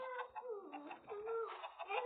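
Chickens clucking in quick, warbling bursts, close by and moderately quiet, with a slightly thin, band-limited tone.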